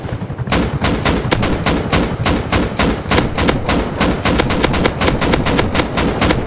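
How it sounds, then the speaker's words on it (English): Explosive blasts and rapid gunfire in the Rust survival game as a raid strikes a router, a loud, relentless string of sharp impacts at a fast irregular rhythm with no pause. "You hear that explosion sound?"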